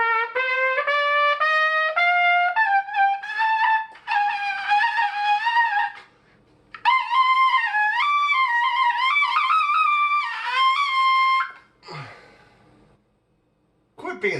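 Trumpet playing in a high register with strained, thin tone, sustained and rising notes with wobbly pitch, loud and close, stopping briefly then resuming before breaking off.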